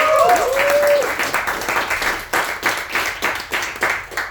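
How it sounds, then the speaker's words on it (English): Audience applause at an improv comedy show, steady dense clapping that swells and ebbs over a few seconds, with a brief whistle-like tone at the start. "Big round of applause for all the improvisers."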